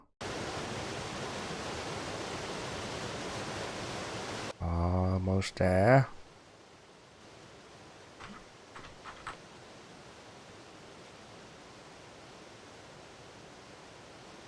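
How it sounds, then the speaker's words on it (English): A constant rushing waterfall in the video game Eco roars for several seconds, then a voice speaks briefly and the water continues much quieter in the background. "The best thing of all is that it gets the waterfall sound."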